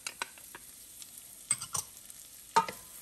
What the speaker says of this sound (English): Stir in the bacon and the green onions.